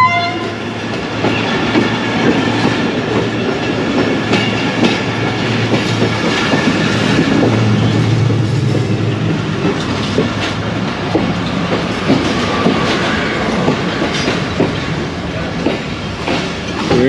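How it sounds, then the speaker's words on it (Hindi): Passenger train on the opposite track rushing past a moving train near Lahore, a loud, continuous rumble and clatter of wheels, heard close and steady with no talk. "दूसरी साइड से सिस्टर ट्रेन जो है वो पास हो रही है"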